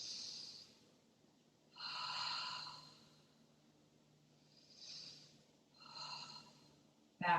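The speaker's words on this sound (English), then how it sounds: "Take an inhale." Several breaths drawn in and let out during a Pilates exercise, soft and airy, with slow swells a few seconds apart and nobody speaking.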